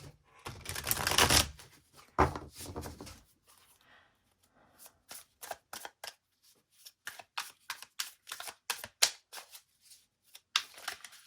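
A tarot deck shuffled close by in a quiet room: a loud riffle burst at the start, then a long run of soft, rapid card slaps and flutters in uneven bursts.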